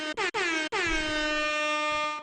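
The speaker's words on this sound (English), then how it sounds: "After you hear the air horns." Air horn sound effect, three short loud blasts followed by one long sustained blare that slowly fades, with no talking.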